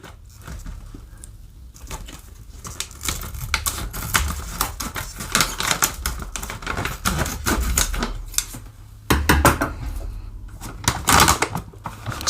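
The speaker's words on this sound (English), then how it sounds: "let me get my scissors. Okay, got some scissors. We're gonna be snipping this right quick." Scissors snip open a bag of SF Bay Coffee Bakery Blend, a run of crisp cuts and crinkling rustles heard close and fairly quiet with no talking.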